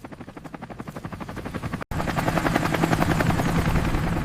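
A military helicopter flying close by in woods, rotor blades thudding in a fast, regular chop that grows louder, broken by a brief cut, with no talking.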